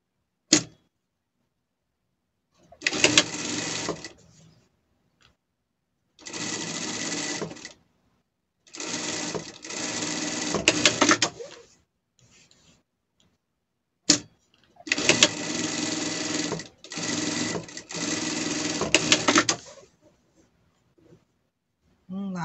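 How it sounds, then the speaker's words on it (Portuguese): Sewing machine stitching a strap onto a pet carrier bag, running in several separate bursts of a few seconds each with pauses between, close and clear with no talk. "Aqui vai a nossa alça. Vamos costurar."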